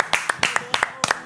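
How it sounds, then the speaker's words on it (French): Several sharp hand claps ring out close by, coming in quick uneven pairs over about a second, as applause. "J'applaudis. Bravo."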